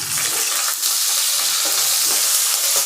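Onions, green chilli and curry leaves sauté in hot oil for a fish curry, giving a loud, continuous close-up sizzle with occasional stirring clicks and no talking.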